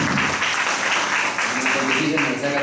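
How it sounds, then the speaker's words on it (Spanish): Collective audience applause fills a university seminar hall, dense and continuous for the whole stretch, with no break in the clapping. "Quisiera primero que les dé un aplauso colectivo, por favor"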